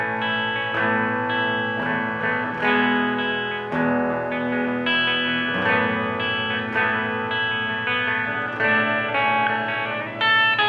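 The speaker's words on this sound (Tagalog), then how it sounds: "this time, clean pa rin tayo, pero naglagay na tayo ng reverb." Kustom KG212FX combo guitar amp on its clean channel with reverb, sustained chords and single notes ringing out with a reverberant tail, loud and alone throughout.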